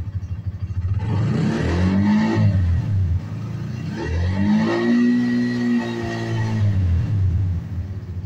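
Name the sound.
Bajaj CT100 motorcycle engine revving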